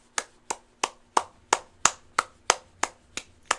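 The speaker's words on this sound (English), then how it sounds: "Let's clap." Sharp, evenly spaced single claps in a video game, about three per second, each a dry crack with a quick fade, with no other sound around them.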